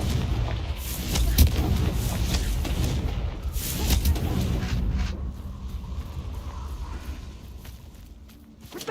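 Repeated booming spell blasts, Incendio fire bursts and a Confringo explosion from a Harry Potter video game, come as heavy thuds and rumbling crackles in quick succession, loud and dense, with faint sounds of play mixed in.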